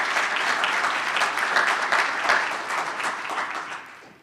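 A city audience at a State of the City address breaks into steady, loud applause, a dense wash of clapping that holds evenly and then fades out toward the end.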